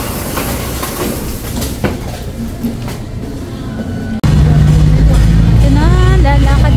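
A Taipei MRT train rumbles and rattles for about four seconds under people talking, then the sound cuts abruptly to louder, tonal, music-like sound.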